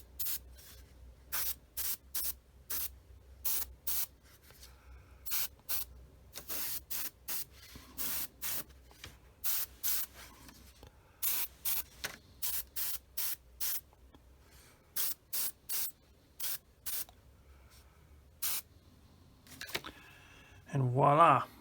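An airbrush sprays paint on a model aircraft propeller in a rapid series of short, sharp hissing bursts separated by brief pauses, close and fairly loud, ending with a longer burst.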